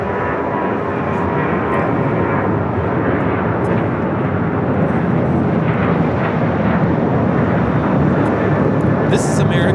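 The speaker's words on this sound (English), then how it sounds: "This is American Airlines 1889 taking off to Las Vegas on the 737-800" An American Airlines Boeing 737-800 bound for Las Vegas roars steadily on its takeoff run at LAX, a loud, broad jet rumble that holds throughout with people talking over it.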